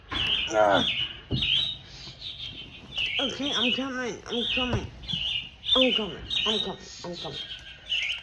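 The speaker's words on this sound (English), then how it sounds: "that's my alarm clock." A bird-chirp alarm clock rings with repeated bright, warbling tweets in bursts, while a person speaks briefly over it.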